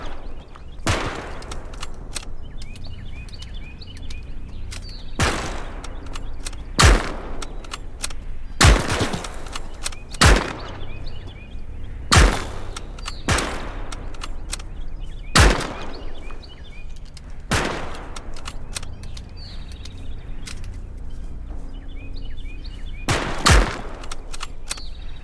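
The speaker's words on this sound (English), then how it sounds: "Shoot at the targets, Soldaten." Single rifle shots fired at targets on a training range in the game Call to Arms - Gates of Hell, about a dozen sharp cracks spaced irregularly over a steady low ambient bed, each shot loud and close.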